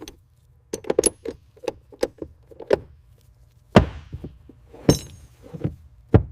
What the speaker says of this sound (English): Sound of a metal wrench clicking.